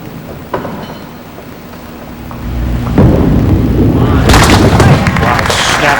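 A 5-pin bowling ball rolls down the lane in a TSN televised pins game with a low rumble that swells and ends in a loud, crashing clatter of pins, under crowd noise and commentary.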